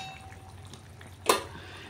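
Vegetable stalks dropped into a boiling curry make one sudden splash about halfway through, followed by soft bubbling from the pot.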